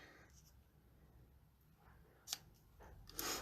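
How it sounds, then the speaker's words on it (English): Scissors snipping ribbon ends on a handmade card, a couple of quiet, crisp cuts near the end after soft rustling, very faint and close. "Okay, so then you just cut off your ends."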